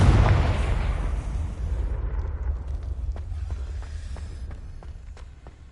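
Confringo blasting spell in Hogwarts Legacy, a single loud booming explosion with a heavy low rumble that decays over several seconds, followed by faint crackling debris.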